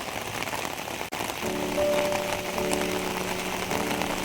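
Heavy rain pours down in a steady, dense hiss, broken by one sharp click early on, with a faint sustained hum underneath for the rest of the downpour.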